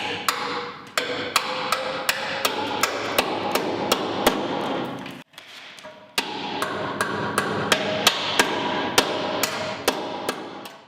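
Repeated sharp hammer blows fold a sheet metal tab over the heater channel of a 1959 VW Beetle under restoration, striking in a steady rhythm of close, loud metallic hits, with a brief pause partway through.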